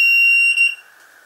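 The Achille connected flood detector's alarm sounds as its probe touches water, a loud piercing electronic beep lasting under a second before it cuts off.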